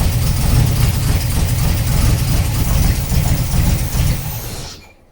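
A TVR 290 S engine runs steadily and loudly at close range, its rough, uneven beat from a misfire continuing for about five seconds before cutting off abruptly.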